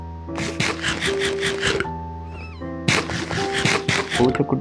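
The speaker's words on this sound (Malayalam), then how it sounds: "പൂച്ചക്കുട്ടി എവിടെ? പൂച്ചക്കുട്ടിയുണ്ട്." A Minecraft cat meows repeatedly in short tonal calls over a steady background of layered electronic tones and game music, fairly loud and close.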